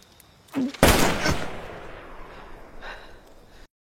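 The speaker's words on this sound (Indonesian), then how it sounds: "Dalam kegelapan malam, Jack dan Alice pun adu tembak." A night shootout in the film Those Who Wish Me Dead, with a loud gunshot blast and a second sharp report that fade into a long rumbling echo, then a fainter distant shot before the sound cuts off.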